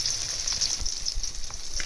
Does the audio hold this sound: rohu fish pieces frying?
yes